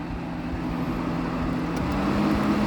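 A 1988 White-Westinghouse 7000 BTU window air conditioner runs on low fan, giving a steady, close, even hum and airy whoosh with a faint low drone throughout and no talking.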